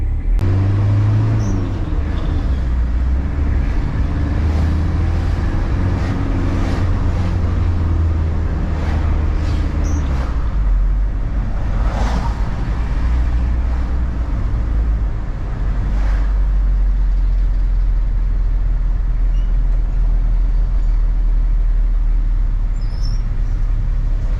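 A steady, loud engine drone from a diesel Toyota Kijang 2L on the move during a test drive, with low rumble throughout and a shift in tone partway through.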